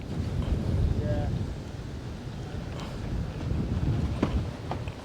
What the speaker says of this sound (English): It's so hard to fish when you're just getting shoved by the wind.